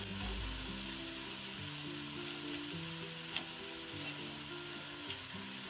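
Halencha leaf chop fritters deep-frying in oil, a soft continuous sizzle and bubbling held steady and fairly faint throughout, with a single small clink near the end and no voices.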